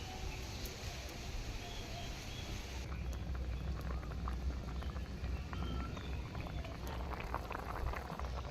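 Potatoes boil in water in a pot for village-style sukto, a steady bubbling and simmering wash that runs throughout, close and moderately loud, with a slight change in texture partway through.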